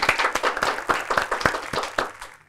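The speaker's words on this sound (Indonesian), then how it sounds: "Tepuk tangan buat Kang Soleh" A small comedy class audience claps for stand-up comedian Kang Soleh, a brisk burst of close hand claps in quick uneven rhythm, fading toward the end.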